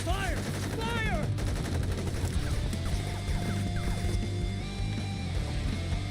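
Rapid bursts of video game gunfire during a combat stretch, dense and steady across the clip, mixed with game music, explosions and other effects.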